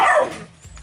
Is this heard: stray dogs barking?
yes